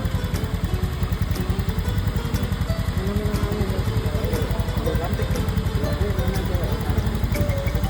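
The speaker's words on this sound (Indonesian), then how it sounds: "di sini tuh kalau semakin kanan semakin pelan, RPM semakin turun." Car engine idling with a steady rhythmic low chug and faint clatter while the idle speed is adjusted down toward about 600 RPM, continuous and close.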